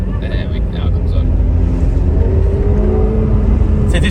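A McLaren 720S's loud, rumbling engine idles with a deep throaty open-exhaust note, steady and close, with a brief rev toward the end.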